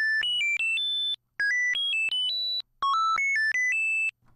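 Bright synthesized beeps recreating the Mario mushroom sound step upward in quick pitched runs, a short retro game-style jingle repeated in bursts with brief gaps, clean and close.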